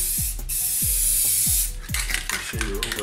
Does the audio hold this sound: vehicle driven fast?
no